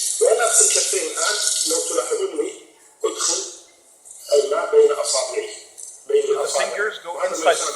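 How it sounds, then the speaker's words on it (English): Tap water runs steadily into a sink during ablution, starting and stopping in several stretches while someone speaks over it. "أفتح الماء ولا أبدل في الماء"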